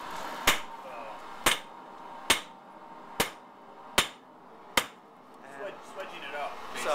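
A hammer strikes a steel blade on the edge of an anvil during cold bladesmithing, six sharp ringing blows at a steady pace of about one per second, close and loud, each decaying quickly.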